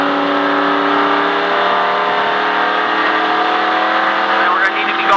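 A NASCAR race car engine held at high revs near 5,000 RPM, a loud sustained droning whine with steady pitch, with a voice talking over it.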